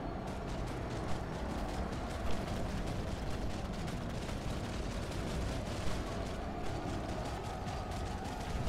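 Dense, continuous gunfire and explosions from the PlanetSide 2 video game, heard as a loud unbroken wall of rapid shots and booms with no pause across the whole stretch.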